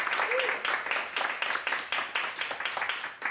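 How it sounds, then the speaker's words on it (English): Applause from a theater audience at the Frigid Festival in New York, a dense burst of clapping that fills the whole moment at steady loudness with slight surges, no voices over it. "Let's get a round of applause for that"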